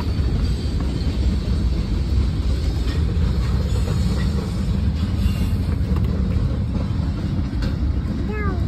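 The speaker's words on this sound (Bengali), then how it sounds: "এদিকে ট্রেন যাচ্ছে" A train rumbles past nearby, a steady low clatter and roar lasting throughout, with faint wind noise and no clear talking.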